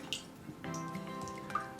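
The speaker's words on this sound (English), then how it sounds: "so then you mix it all together" White-coloured water being mixed together for a snow-day craft, with soft drips and watery sloshing that settle into a steady ringing tone partway through. No one speaks.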